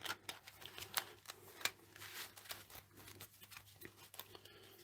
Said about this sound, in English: Need to do the shuffle first.